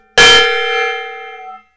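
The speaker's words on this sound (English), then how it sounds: "While I hit this gong, here's the gong, and I'm going to hit it." A gong is struck once, loud and close, with a sharp metallic attack followed by a bright ringing tone that decays over about a second and a half.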